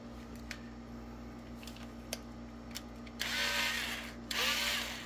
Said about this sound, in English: But I'm going to take one of the dog bones. I'm going to put it in my drill here.